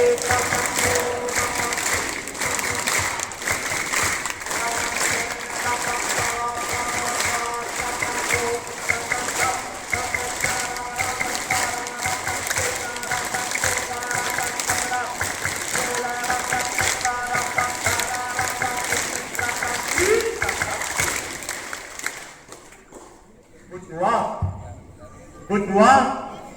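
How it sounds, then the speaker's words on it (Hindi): Schoolchildren at an inter college clap together in unison, a long run of sharp, evenly timed claps over a continuous crowd roar that stops abruptly near the end, leaving scattered noises and faint voices. "सबकी ताली एक साथ बजेगी"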